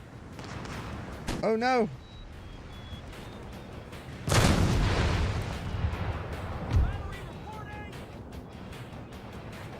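Booming explosions of enemy mortar fire in a video game: a loud blast near the middle followed by a smaller thump, over a rumbling battlefield background with brief speech early on.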